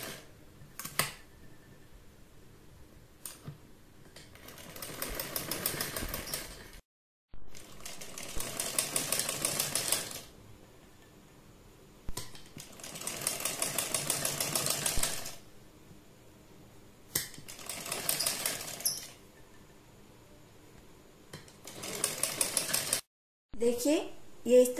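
A sewing machine stitches a piping strip onto the curved back neck of a garment, running in several whirring bursts of a few seconds each, separated by pauses and soft handling sounds, while someone speaks between and over the runs.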